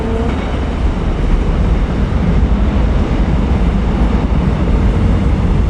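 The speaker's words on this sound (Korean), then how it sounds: "기차 소리도 들리고" A train passes in the distance outdoors on a clear day, a steady broadband rumble holding for several seconds at constant loudness with no talk over it.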